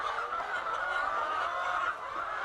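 Chickens on an egg farm in Côte d'Ivoire fill the air with a dense, continuous clucking and chattering from many birds, steady and fairly loud, with no one speaking.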